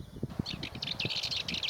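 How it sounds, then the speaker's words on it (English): Sardinian or Cyprus warbler calling from under ten metres away, a rapid string of short, bright chirps and chatters repeating steadily against a quiet outdoor background with faint low rustling. "The warbler is less than 10 meters away from me and it hasn't noticed me."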